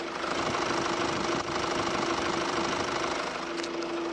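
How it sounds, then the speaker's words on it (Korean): A steady Mercedes-Benz E-Class engine idling with a low, even hum and a constant tonal drone, no voices, unchanged for the whole stretch. "뭐 엔진 소리 의미가 없지만 그래도 한번 들려드리도록 할게요."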